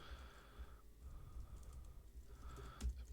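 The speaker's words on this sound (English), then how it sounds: "Lots of typing." Rapid, steady clatter of typing on a computer keyboard, close and fairly quiet, continuing for a few seconds with no voices.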